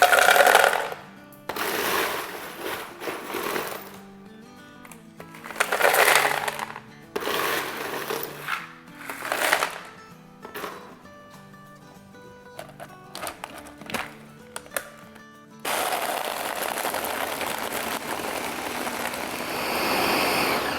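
A blender grinding ice for a mango drink: loud bursts of whirring and crunching in repeated pulses with pauses between, ending in a longer continuous run.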